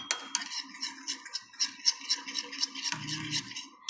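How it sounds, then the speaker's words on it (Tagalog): Spoon clinks and scrapes rhythmically around a bowl while stirring a mixture of coffee, egg, olive oil and honey, a steady run of close, bright metallic ticks with no talk. "Kailangan hahaluin mo siya."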